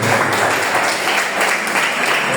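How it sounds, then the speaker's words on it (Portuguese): A church congregation at a Maranata service claps loudly together in praise, a thick continuous wall of applause filling the room without pause. "dá a melhor salva de palmas para o Rei da Glória"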